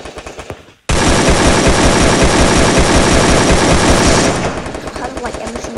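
A loud, sustained burst of machine-gun fire in a video game rattles nonstop for several seconds, then fades into quieter scattered shots and game noise.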